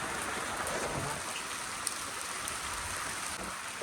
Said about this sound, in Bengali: আজকে বৃষ্টি হয়েছে